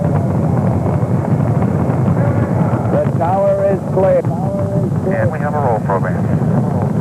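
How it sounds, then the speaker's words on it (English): Apollo 15 rocket lifting off from the launch pad: a steady, wide roar with a windy rumble holds for the whole stretch, while a radio-style voice talks over it. "Apollo 15 lifted from the pad on its way to the moon."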